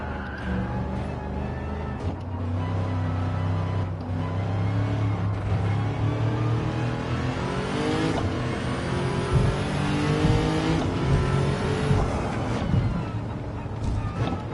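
A deep, rumbling V8 engine in Gran Turismo 7, swapped into a Toyota Crown, drones steadily and revs up through rising pitches, loud and sustained without a break.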